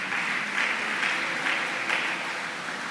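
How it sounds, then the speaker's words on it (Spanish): Church congregation applauding Christ, a steady broadband wash of clapping from many hands that holds an even loudness for the whole stretch, with no voices over it. "¿Cuántos aplauden a Cristo porque nos hizo libres de toda pobreza y desigualdad?"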